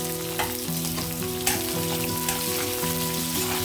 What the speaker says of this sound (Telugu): ఎండుమిర్చి కరివేపాకు వేస్తాను